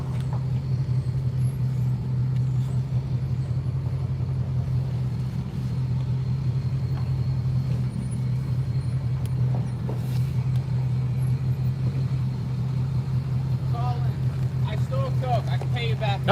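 A vehicle's engine rumbles at a steady low drone while backing up a dump trailer on a ranch, continuous and fairly close, with people talking over it.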